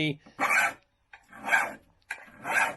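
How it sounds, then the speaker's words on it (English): A flat file rasps along a lawn mower blade in three separate strokes, each a loud scraping burst with short pauses between them, heard close up and on its own. "what we're going to use is a flat file, and David's going to start sharpening"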